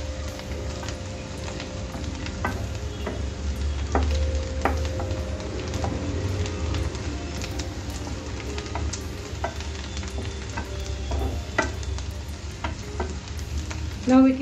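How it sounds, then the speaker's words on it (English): Onions sizzle steadily in a hot pan while a utensil scrapes and stirs them at intervals, caramelizing for a spicy chilli egg bhurji; close, continuous frying with sharp stirring clicks and no talking. "keep stirring it in between while the onions caramelize. Otherwise it might burn in the bottom."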